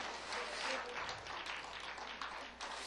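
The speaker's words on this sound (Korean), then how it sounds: "다시 한번 뜨겁게 박수 한번 쳐주시기 바랍니다" A church congregation at a Friday evening service applauds warmly, a steady dense wash of many hands clapping at moderate distance, with a few voices mixed in.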